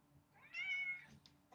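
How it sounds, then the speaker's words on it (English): A single drawn-out cat meow, soft and fairly close in a quiet room, followed by a faint short chirp and slight rustling. "Did you guys get the little meow?"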